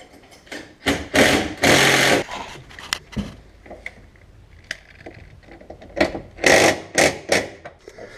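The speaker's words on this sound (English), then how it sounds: "I'll take our 7/16 wrench and our impact, and we'll tighten everything down." An impact wrench tightens bolts while ArmorTech doors are fitted to a 2013-2018 Polaris Ranger 900/1000 Crew. It gives several loud, close bursts of rattling hammering separated by short pauses, with lighter handling clatter between them.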